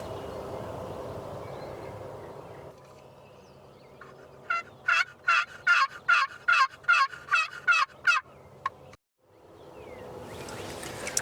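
A wild turkey gobbles from the woods in a rapid, rattling burst of about a dozen pulses at moderate distance, set against quiet outdoor background.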